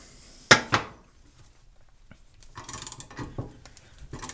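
A regular half-inch drive ratchet tightens an upper control arm bushing, a sharp metallic clack followed by quiet stretches and then bursts of rapid ratcheting clicks, close and moderately loud.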